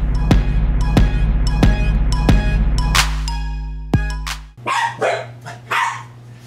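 Sharp, repeated dog barks ring out in a steady rhythm over a constant low hum, followed by a few rougher, looser barks near the end, during home winemaking.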